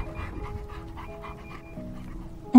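A dog pants softly in quick, faint rhythmic breaths, ending with a sudden louder sound.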